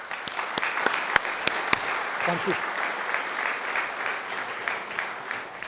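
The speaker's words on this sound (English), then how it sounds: "If we could have a round of applause" An audience at an investment conference applauds in a steady crowd clapping wash, with a few sharp close claps standing out early and a brief spoken thanks partway through.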